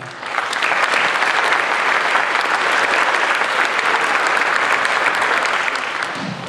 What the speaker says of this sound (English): I'd be remiss if we didn't give them a round of applause as well.